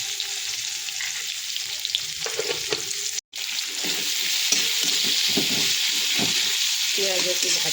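Onion fries in a hot wok with cinnamon and cumin, giving a steady close sizzle and hiss, with light stirring taps and scrapes through it and a brief dropout partway, no clear talking.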